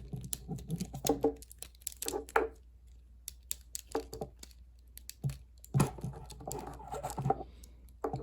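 Small plastic parts of a Fans Toys FT-48 Jive transforming figure click and tick as pieces fold and tab into place, a scattered run of light, close snaps with short quiet gaps between.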